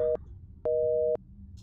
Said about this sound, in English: Looks like the line is busy.